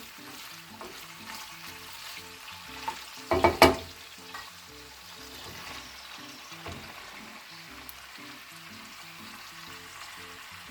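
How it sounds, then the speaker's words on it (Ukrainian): Onion added to a skillet of lard and meat, frying with a steady soft sizzle, a brief clatter of stirring midway, then continued low crackling. "Зараз сюди додаю цибулю."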